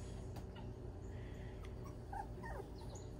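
A dog kept outdoors gives a few faint high yips and whimpers toward the end, distant and soft over steady low outdoor noise.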